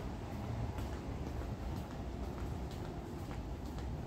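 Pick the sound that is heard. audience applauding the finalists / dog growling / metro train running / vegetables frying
metro train running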